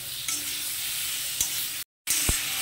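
Drumstick, potato and tomato stir-fry in a pan with a continuous close sizzle and a few sharp scrapes of a spatula, broken by one brief cut to silence.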